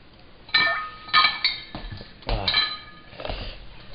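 Ice cubes clink and rattle into a cup as water is readied for a road trip, several bright hard knocks in quick succession, close and fairly loud, with a brief clatter of cubes settling.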